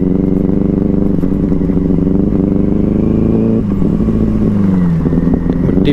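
A motorbike rides slowly over a slippery dirt track on a scenic route, its engine droning loud and steady up close with brief throttle dips and revs and some clattering.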